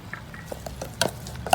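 Prepared vegetables stirred into catfish larb in a pan, giving soft scraping and light sizzle with a few sharp utensil clacks against the pan, close and brief.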